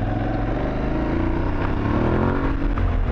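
Aprilia Tuareg 660 adventure motorcycle accelerating off-road, a steady engine drone that climbs gradually in pitch, heard continuously at moderate loudness without talk.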